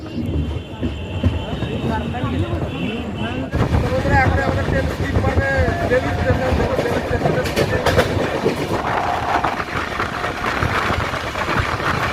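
The Howrah–Katihar weekly express rumbles steadily along the tracks with a loud, continuous roar and rattling clatter, wind buffeting the microphone throughout.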